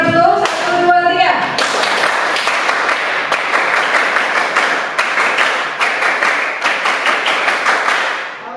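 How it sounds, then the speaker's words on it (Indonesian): Students in a high school history classroom do a rhythmic spirit clap, a fast run of sharp, close claps that settles into a steady beat of distinct hand strikes toward the end. "Kita akan tepuk semangat dulu."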